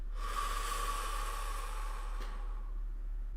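A single slow, deep breath during meditation, a breathy rushing exhale lasting a couple of seconds, close and alone over a low steady hum, then fading to quiet.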